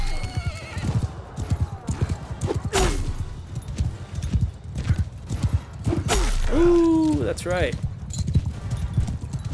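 Horse hooves clip-clop steadily through a mounted battle in Mount & Blade II Bannerlord, with whinnies and clashing effects over the top and someone talking briefly.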